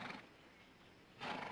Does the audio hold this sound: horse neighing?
yes